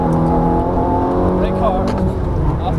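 Ferrari F430 F1 engine pulling hard at full throttle on a race track, a steady loud roar with rising harmonic whine, an instructor's voice speaking over it.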